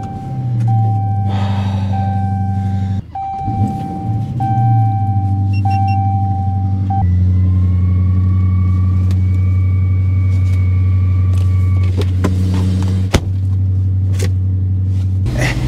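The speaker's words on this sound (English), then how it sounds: "That means starting up your cars to let the batteries charge." Parked cars are started and left idling, with a low steady engine rumble close by, a brief crank and restart partway through, and a continuous drone after that.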